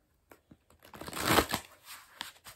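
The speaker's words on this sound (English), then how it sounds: "So I'm just gonna shuffle really quickly." Tarot cards shuffled by hand, a fast, close riffling flutter that swells to a brief peak in the middle, with light taps before and after.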